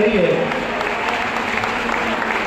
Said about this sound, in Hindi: तालियों की बौछार से महाराज श्री का आगमन हो रहा है।